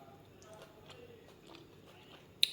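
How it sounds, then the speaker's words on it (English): Crunchy vegetables served with Jamaican escovitch snapper are chewed close to the mic, a run of soft crisp bites and mouth noises that ends in one sharp louder crunch. "My veggies are still crunchy."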